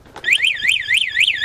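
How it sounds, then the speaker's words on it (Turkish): An ATV's built-in alarm sounds close and loud, a warbling electronic siren sweeping up and down in quick regular cycles, with no talking. "Bunda alarm da var."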